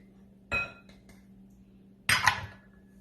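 A utensil clinks against a bowl twice while flour and cornstarch are mixed for a lumpia wrapper, two short bright knocks separated by a quiet pause in a kitchen.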